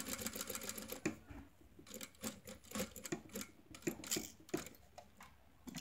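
Domestic sewing machine stitching a patch pocket onto fabric, running in short bursts with brief pauses as the needle stops at corners, close and fairly quiet.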